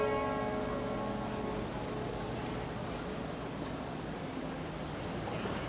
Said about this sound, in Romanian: Se aud clopotele de la Saint-Fond.